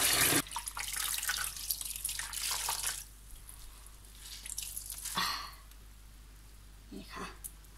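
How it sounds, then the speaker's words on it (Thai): Running tap water splashes over bruised wild greens being washed for pickling, a broad hiss loudest in the first three seconds, then quieter trickling with brief bursts of flow. "เดี๋ยวเราจะไปล้าง"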